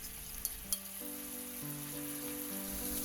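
Perilla leaves simmer in a bubbling sweet soy-style sauce with oligosaccharide syrup in a frying pan, giving a faint, soft, continuous sizzle and hiss beneath quiet steady background tones.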